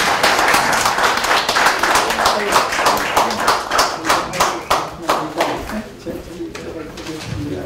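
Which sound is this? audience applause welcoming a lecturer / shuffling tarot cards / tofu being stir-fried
audience applause welcoming a lecturer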